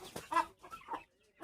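Chicken clucking close by, a few short quiet clucks in quick succession, then softer faint calls trailing off.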